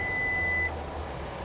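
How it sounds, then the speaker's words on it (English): A single steady electronic beep from a 2023 Kia Niro plug-in hybrid sounds for under a second, then cuts off, leaving a low engine-like hum. "Excuse all the beeping that we're doing here."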